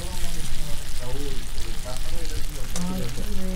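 Egg and potato curry sautéing in a pan gives a steady, close sizzle and crackle that runs the whole time beneath a person talking.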